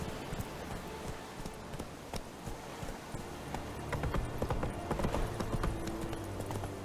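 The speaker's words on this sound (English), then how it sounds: "Whoa there, Roach" Horse hooves clip-clop steadily on the ground in The Witcher 3, a rhythmic run of hoofbeats that grows louder toward the end, with game ambience underneath.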